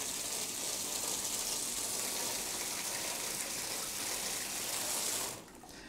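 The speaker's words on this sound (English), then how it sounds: "let's test out the water pressure" A bathtub faucet in a Las Vegas Vdara executive hotel suite gushes at full pressure in a loud, steady roar of running water, then is shut off abruptly near the end.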